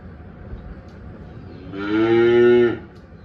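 A freshly calved cow on a farm gives one long, close moo of about a second, rising out of quiet background noise.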